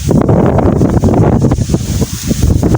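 Strong wind buffets a microphone outdoors, making a loud, continuous rumbling roar with gusty surges and no clear talk.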